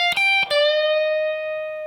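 Overdriven electric guitar note bent up a half step, two quick picked attacks followed by a single sustained note that rings out and slowly fades, with no talking over it.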